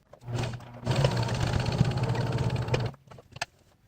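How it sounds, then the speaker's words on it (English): A sewing machine runs steadily for about two seconds, stitching a straight seam along a folded cosplay cape for a Thor costume, with a steady low whirring hum that starts and stops cleanly. "We're going to sew it straight, so let's get that going."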